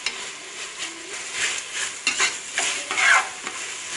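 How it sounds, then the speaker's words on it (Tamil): Onions for a restaurant-style vegetable biryani are sautéed in a pan, a soft sizzle under repeated rhythmic stirring scrapes and light metal clinks of the spoon, close and without speech. "வெங்காயம் போட்டு நல்லா வதக்குங்க."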